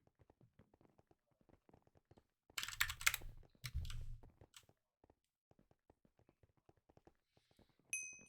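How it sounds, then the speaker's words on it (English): Computer keyboard typing at close range, with sparse quiet key clicks throughout and two louder clattering bursts of fast keystrokes in the middle, followed by a brief tonal ping at the end. "you can hear my keyboard"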